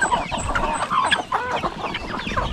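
Chickens clucking on a Philippine farm where geese and guinea fowl are kept too, a busy cluster of overlapping fowl calls from nearby with no one talking.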